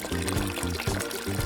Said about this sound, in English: Next, we add boiling water.